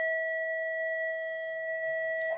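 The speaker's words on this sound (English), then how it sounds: "Typical school day bell going off." A school bell at Orange Park High School in Florida rings as a steady, loud electronic tone that holds for about two seconds before cutting off.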